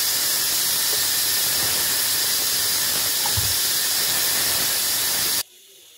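About 100 grams of oil goes into a hot pan, making a loud, even hiss that holds steady, then cuts off abruptly near the end.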